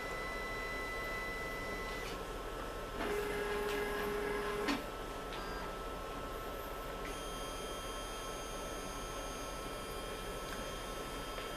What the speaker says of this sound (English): The syringe pump is now clearing the contents of vial 1 from the sample loop.